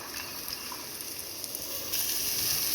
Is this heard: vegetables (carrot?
yes